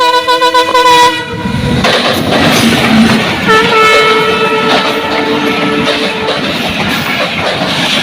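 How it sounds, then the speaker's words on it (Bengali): A train roars past close by in rural Bangladesh, opening with a loud horn blast, then a sustained heavy rumble of carriages with rhythmic clatter and squealing tones, loud and continuous throughout. "তোমার ট্রেন আইসা পড়ছে, তোমার মনের আশা পূরণ হয়ে গেছে।"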